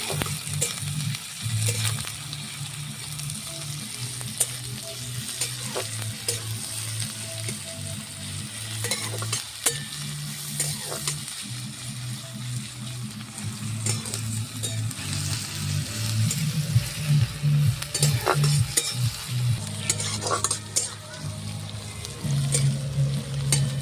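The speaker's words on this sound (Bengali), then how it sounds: "দিয়ে এবার ভালো করে নাড়াচাড়া করবো" Chopped onions and dried red chillies sizzle continuously in oil in a pan while being stirred, with repeated scraping and clinking strokes over the steady frying hiss.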